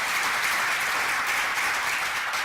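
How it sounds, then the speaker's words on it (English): An audience at a gathering gives a round of applause for the sponsors, a continuous wash of many hands clapping at a steady, even level. "So a round of applause for our sponsors again."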